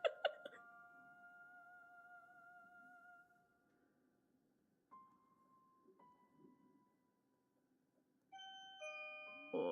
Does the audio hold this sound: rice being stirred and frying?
no